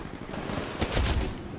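Rapid bursts of smart pistol fire in the Titanfall game on the Swampland map, a loud cluster of quick shots peaking near the middle, over steady game ambience.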